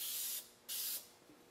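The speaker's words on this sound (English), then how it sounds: "I'm going to spray some penetrating lubricant in there." Penetrating lubricant sprays from an aerosol can onto a rusted brake rotor hub of a 100 Series Land Cruiser, two close hissing bursts with a short pause between them.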